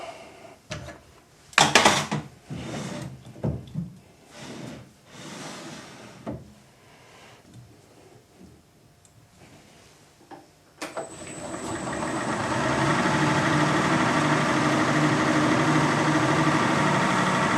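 A few clanks and knocks give way to a lathe starting up, then a steady motor whir with a high whine as a centre drill bores into metal.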